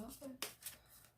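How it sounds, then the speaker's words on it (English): Tarot cards being shuffled, with a few quick, soft riffling bursts, faint and close. "Cards just wanted to flip around as I'm shuffling"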